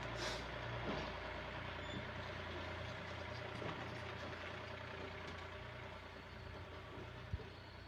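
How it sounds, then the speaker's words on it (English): A tractor rumbles past at a distance, a steady low engine drone with faint higher mechanical noise, no talk, holding fairly even throughout. "Pastor James is driving the tractor by."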